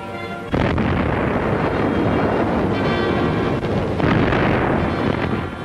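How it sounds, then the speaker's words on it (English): German Big Bertha artillery shells fired from the French coast burst around a ship convoy in the Channel in 1940, a loud, sudden roaring blast that sustains as a dense rumbling barrage. "Nazi Big Berthas on the French side of the channel are firing at the convoy, a range of 20 miles, ships in a barrage."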